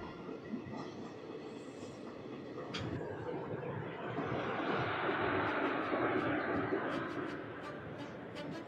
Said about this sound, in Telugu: ఆ ట్రైన్ వెళ్తుంది చూసారా